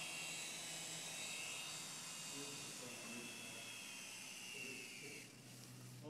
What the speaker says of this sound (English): The little mini helicopter. Little bitty helicopter.